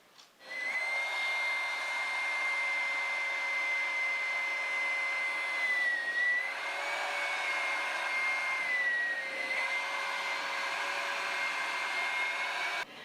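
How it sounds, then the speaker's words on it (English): A Ryobi One+ 18V stick vacuum running with the crevice tool attached gives a steady high-pitched motor whine and airflow roar. It starts abruptly and holds nearly constant, with slight pitch dips as the suction shifts. "This vacuum works really well."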